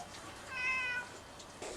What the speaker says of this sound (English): I got a helper kitty